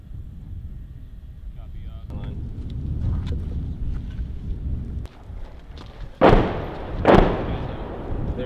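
Artillery fires during a military fire support coordination exercise. Two sharp, heavy booms land about a second apart after a stretch of low background rumble.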